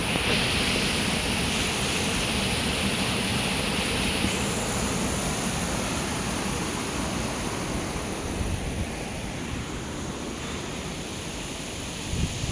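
Loud, constant rush of water flowing in a channel by a rice field, a broad steady roar that eases slightly toward the end.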